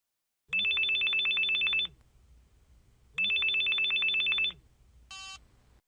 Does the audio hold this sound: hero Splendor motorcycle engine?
no